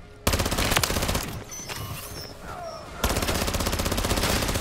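Rapid automatic gunfire in Modern Warfare Zombies, with loud sustained bursts, a short lull of scattered shots and game effects, then another long dense burst.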